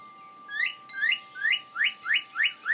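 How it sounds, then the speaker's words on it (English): Recorded bird call played as a nature sound: a clear, close repeated whoop-like whistle, rising in pitch each time, sounding about eight times in a steady rhythm against a faint steady tone. "It's a bird."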